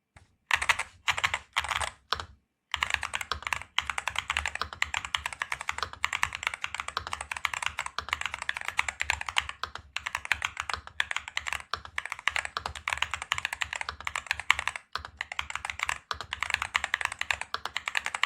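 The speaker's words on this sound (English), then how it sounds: "Let's listen to his typing sound performance." Rapid, steady keyboard typing with crisp clacky keystrokes, close and continuous, with a couple of brief pauses early on.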